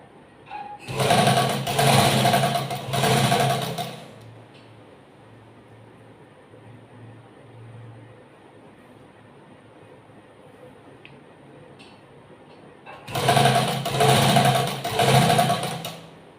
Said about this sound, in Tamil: இப்போ கொஞ்சம் கொஞ்சமாக அந்த அரை இன்ச் இப்படி மடித்து தைங்க ஃபுல்லாக